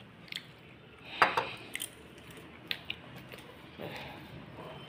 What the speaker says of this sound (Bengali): বেলাতে আমরা রুটি, করলা ভাজা, কুমড়ো আলু ভাজা খাচ্ছি।